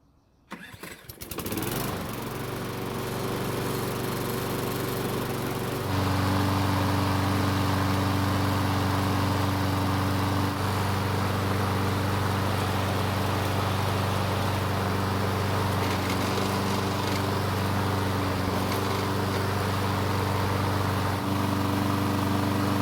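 A Troy-Bilt lawn mower with key start cranks briefly and catches, then its small engine settles into a loud, steady running drone up close, rising slightly after a few seconds, with no talking.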